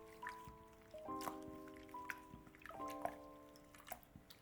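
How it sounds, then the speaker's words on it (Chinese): Clear water is poured over marinated beef and swirled to rinse it, giving soft drips, trickles and gentle splashing at close range with small ringing tones from the bowl, fairly quiet and with no talking. "倒入适量的清水，多给它清洗2遍，直到将水洗得清澈为止"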